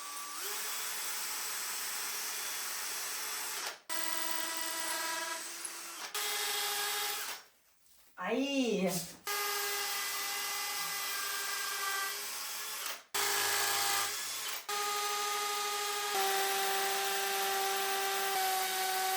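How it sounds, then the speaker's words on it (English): A power drill bores a series of pocket holes into wood in repeated whining bursts, loud and close, each run broken by brief pauses and a short revving spin-down, with one brief spoken word. "So the next 6 holes, wish me luck that they will be easy to drill."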